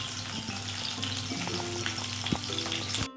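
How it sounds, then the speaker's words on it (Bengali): Fish frying in a pan, a steady close crackling sizzle with a few light clinks, heard on its own without talk. "আর এইদিকে মাছ ভাজা বসিয়ে দিয়েছি"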